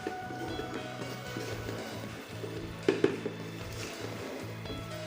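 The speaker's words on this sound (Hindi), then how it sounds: "इनको हमने अच्छी तरह से चम्मच को चलाते रहना है" A spoon stirs chicken macaroni with vegetables and spices in a hot pan, producing a soft continuous sizzle with occasional scraping clinks, close and fairly quiet.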